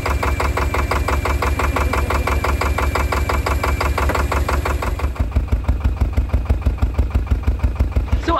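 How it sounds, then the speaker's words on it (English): A canal boat diesel engine runs steadily with a rhythmic chugging beat, loud and close, its knock becoming more pronounced near the end. "So obviously you can hear I've got a working engine again."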